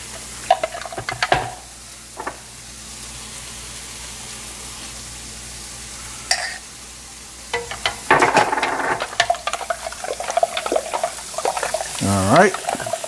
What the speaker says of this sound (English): we're finna get ready to pour in our beef stock so we can deglaze the pan